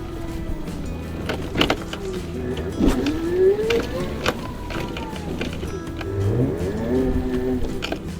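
Electric ATV climbing a slope on a test drive, its motor giving a rising and falling whine over two stretches amid clunks and rattles, fairly close, with no speech.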